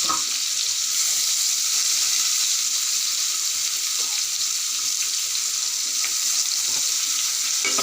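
Onions fry in a pan, a loud, dense, unbroken hiss of sizzling oil held close throughout, with faint stirring beneath.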